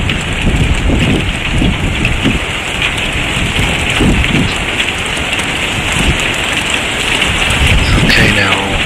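Heavy rain pours down steadily during a tornado storm, a dense, loud hiss of drops pounding surfaces close by, with gusts and faint rumbling beneath it throughout.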